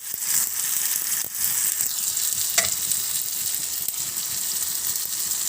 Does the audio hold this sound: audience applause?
no